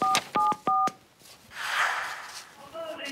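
Three short, crisp touch-tone beeps sound in quick succession as a telephone number is dialed on a TV panel show. A soft breathy rustle follows, then faint tonal sounds, all close and clear.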